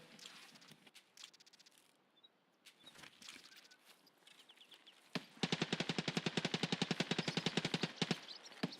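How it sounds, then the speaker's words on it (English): Gunfire in the video game Escape from Tarkov: scattered shots early on, then a loud sustained burst of rapid automatic fire with closely spaced, rhythmic reports lasting several seconds. "Gunfire."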